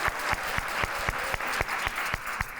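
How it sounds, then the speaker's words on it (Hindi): An audience on a comedy talk show breaks into applause, a lively round of clapping with distinct regular beats standing out from the crowd, steady and moderately close for its whole length. "तालियां हो जाए।"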